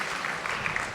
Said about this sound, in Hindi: ताली तो बड़ी अच्छी बजा दी।